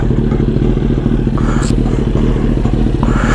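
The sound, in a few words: Kawasaki Ninja ZX-10R motorcycle engine running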